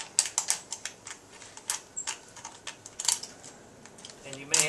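Thin aluminum soda can pieces pressed and crinkled together to form an alcohol stove, giving a quick series of sharp metallic crackles and ticks, close-up, with a louder crunch at the end.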